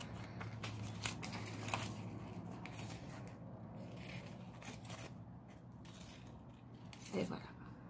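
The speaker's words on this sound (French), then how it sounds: "Puis je vais dans le tissu, je vais découper 2." Scissors snip through fabric while pieces for a plush toy are cut out, quiet crisp clips repeating at an uneven pace, close by, with a soft hum of room noise underneath.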